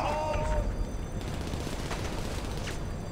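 Gunfire in GTA 5 during the Doomsday Heist finale, a rapid fusillade of shots rattling through the scene at moderate distance, steady and dense, with a few sharper cracks standing out.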